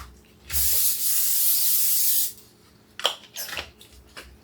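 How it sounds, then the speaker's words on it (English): Cooking spray hisses from a can onto casserole dishes in one steady burst of nearly two seconds, followed by a few soft clinks and handling sounds nearby. "let's give these casserole dishes a little spray"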